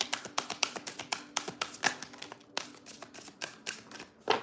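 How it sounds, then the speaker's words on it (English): Quick, rhythmic flapping taps repeat steadily as tarot cards are riffled and shuffled, close up with no talking. "Last shuffle"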